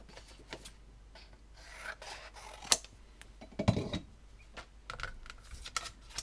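Scissors or a cutter slicing a piece of crumb cake coloured cardstock at a craft table, giving soft rasping cuts with a few sharper snips, close and quiet with no voices.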